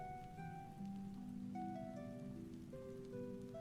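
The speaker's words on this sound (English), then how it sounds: "The rain is starting to slow down now, the steady rhythm easing into a soft drizzle." Soft rain easing into a drizzle makes a gentle, even patter beneath sustained tonal notes that drift along throughout.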